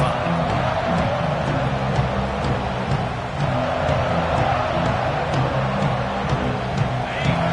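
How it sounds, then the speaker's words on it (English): A football stadium crowd roars steadily and continuously from a distance as a dense, unbroken wash of cheering voices at a fairly constant loud level. "This crowd bringing an ear-splitting welcome to their visitors."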